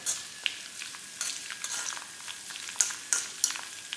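Leaves fry gently in oil over a low flame, making a soft continuous sizzle dotted with small pops and crackles, close up and without talk.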